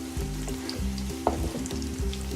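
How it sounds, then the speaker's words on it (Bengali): Food frying in a pan, a close crackling sizzle over a steady low background hum, with one brief utensil tap midway; no talking. "এইটা কিন্তু ঘুরিয়ে ফিরে সুন্দর করে ভাজতে হবে"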